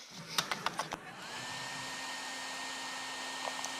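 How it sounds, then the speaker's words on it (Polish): A hair dryer blows with a steady, even whoosh and a faint whine, close and constant after a few sharp clicks at the start. "Suszę włosy, a co?"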